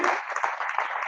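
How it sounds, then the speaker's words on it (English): Steady applause from an audience at a political campaign event for a candidate running for office, a dense, continuous wash of many hands clapping at moderate volume without voices. "Let's give her a big round of applause"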